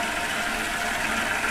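Well water pours steadily into a tank of just over 100 gallons out in elk hunting country, a dense, close rushing splash with no pause across its brief span.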